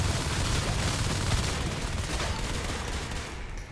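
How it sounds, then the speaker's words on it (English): Dense explosions and gunfire from the video game Natural Selection 2, a loud, continuous roaring barrage with crackling bursts and no clear pauses throughout. "I don't know what just happened there, but a lot of explosions."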